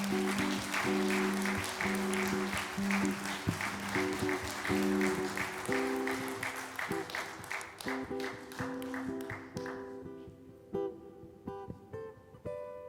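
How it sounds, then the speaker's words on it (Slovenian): Audience applause at a table tennis club's 70th anniversary ceremony, with steady clapping over music that thins into scattered claps near the end. "Gospodu Mikcu namenimo kar še en aplavz, prosim"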